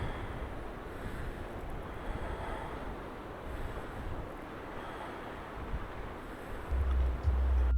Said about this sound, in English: You can tell it's getting high tide because of the tide splashing up against the